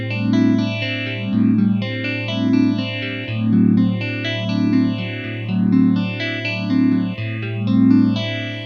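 A phaser effect with its feedback turned all the way up sweeps hard across a sustained chord in slow, regular whooshing cycles, loud and resonant, with no talking over it.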